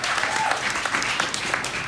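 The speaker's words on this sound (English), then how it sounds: "Another round of applause for Aparna and her dad's poem." An audience at a live literature evening in a café applauds a poem, with steady, moderately loud clapping throughout the short stretch.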